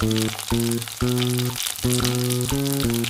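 Spices for a Gujarati vaghar tempering crackle and sizzle sharply in hot oil, a dense, loud frying hiss alongside steady harmonic tones in the background.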